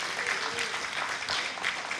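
Church congregation applauding the Lord during a Portuguese-language worship service, a brief dense patter of many hands clapping at a steady level, no talk over it.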